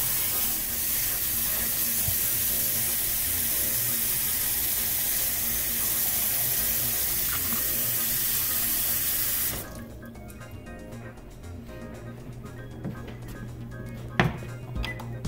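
A kitchen tap runs steadily as a pot fills with cold water for boiling red potatoes, a loud continuous rush that stops abruptly near the end, followed by quiet clinks.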